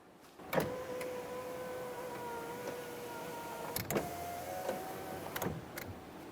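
A 2004-2008 Ford F-150's power window motor whirs steadily in long runs, broken by sharp clunks as the glass stops and reverses. Close, fairly quiet, no talking.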